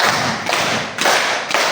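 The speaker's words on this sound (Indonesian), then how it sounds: "Tepuk 1. Tepuk 2. Tepuk 3. Tepuk 4." A group of children claps in unison to a counted rhythm, making sharp, close bursts about every half second, loud and steady with no talk between them.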